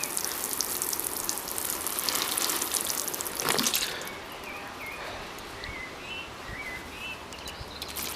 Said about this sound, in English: we're going to get a nice sprinkle on this watering can